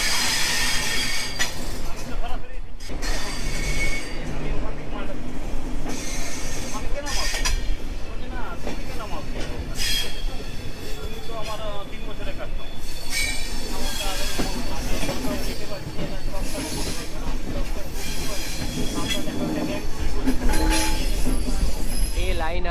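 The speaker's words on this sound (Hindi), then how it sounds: "अपने निर्धारित टाइम से 1 मिनट डिले 3:26 पे हम लोग का ट्रेन डिपर्चर हो रही है पुरुलिया जंक्शन का" Ruposhi Bangla Express pulling out of platform 1 at Purulia Junction, a steady loud rumble of rolling carriages with wheel clatter and occasional squeal, voices talking over the continuous train noise.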